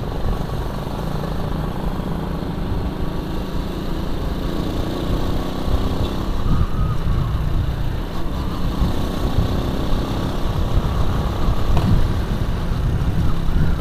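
A Honda C70 motorcycle engine runs steadily while riding through the town of Madiun, a continuous loud low drone with slight rises and dips and no talk.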